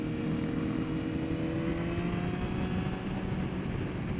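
Ducati 999R motorcycle at speed on the Thunderhill West race track, its engine a loud, steady, continuous drone with a slight rising pitch, close up and alone with no talk.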